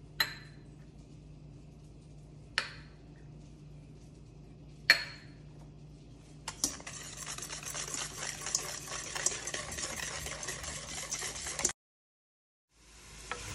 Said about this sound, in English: the food apprentice is gonna take the 2/3 cup of sugar and add the salt and spices and whisk that all together